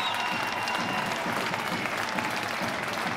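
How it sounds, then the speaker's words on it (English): Ice hockey fans at Dundee Ice Arena applaud after a Dundee Stars versus Cardiff Devils game: sustained, dense clapping fills the rink evenly and steadily, with faint crowd murmur mixed in. "the Dundee Stars will skate around the Dundee Ice Arena and take the applause from a very appreciative bunch of Dundee Stars fans"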